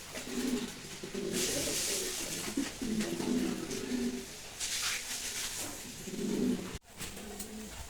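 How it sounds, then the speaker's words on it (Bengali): A pair of pigeons cooing close by, soft repeated throaty coos in short bursts with brief pauses and faint background hiss, no speech. "প্রেমে পড়ার মতো একজোড়া কবুতর"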